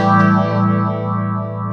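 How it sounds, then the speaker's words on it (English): Metal guitar tone from a Line 6 Dream Rig run through a hall reverb with treble turned down, a sustained distorted chord ringing out loud and steady, washing into a long lush reverb tail with no voices. "And then I put the whole thing through a hall reverb."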